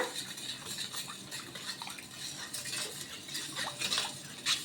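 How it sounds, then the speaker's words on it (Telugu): A spoon stirs homemade floor cleaner liquid with alum powder in a vessel, giving continuous close clinks and scrapes with a faint liquid swish, moderately quiet. "వేసుకొని ఇలా ఒకసారి బాగా కలిపేసుకోవాలి"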